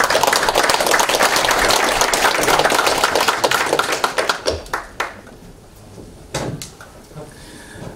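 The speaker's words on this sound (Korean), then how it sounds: "박수 부탁드립니다." Audience clapping at a political candidates' debate, a dense burst of applause that fades out over several seconds into scattered claps.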